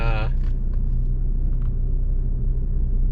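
A Saab 9-5 with 200k miles and added sound deadening is driven, filling the cabin with a steady low road and engine rumble and a brief tonal whine at the start.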